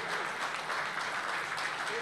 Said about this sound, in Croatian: Pa jedan aplauz.